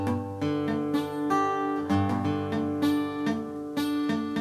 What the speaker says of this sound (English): You have dead strings here and there because what's happening, your fingers are hitting unwanted strings.